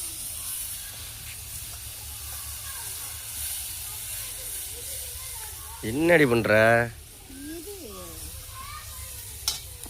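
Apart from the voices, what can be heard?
onions sautéing in a pan for squid curry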